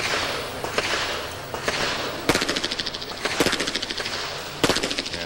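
Pistol fire at a moving target event in a national action pistol championship: loud sharp shots in quick strings with gaps between passes, echoing over an outdoor range with steady background noise.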